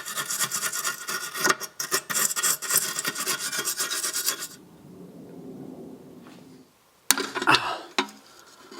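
Scrubbing and brushing on the brake line nut of a BMW Z3 rear caliper gives steady, close rasping strokes for a few seconds, then quieter handling, a sharp knock and another short burst of scrubbing.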